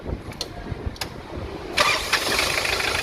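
An aircraft engine cranks with a few short whirring turns after fuel is restored, then catches and settles into a steady running idle close by.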